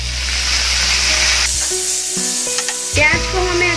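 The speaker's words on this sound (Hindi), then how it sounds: "प्याज को हमें अच्छी तरह से गोल्डन कलर आने तक भून लेना है।" Onions frying in hot oil with garlic and asafoetida, made for a spiced okra-in-yogurt dish: a steady close sizzle with a few clinks and scrapes of stirring partway through.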